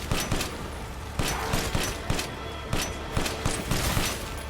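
A gun in Resident Evil Village fires in quick, regular bursts, loud and punchy, each crack thumping over a constant dense rumble of game noise.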